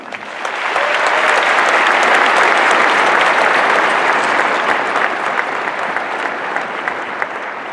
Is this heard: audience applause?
yes